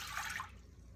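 Vegetable broth poured from a cup into a container gives a brief, soft liquid splash and trickle that quickly fades, heard close and alone.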